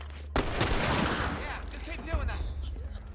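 A gunshot in The Last of Us: a sharp, loud report cracks out, followed by a ringing, rumbling tail, with a person talking over it.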